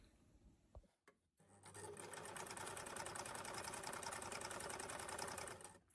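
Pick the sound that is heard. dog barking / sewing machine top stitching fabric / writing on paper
sewing machine top stitching fabric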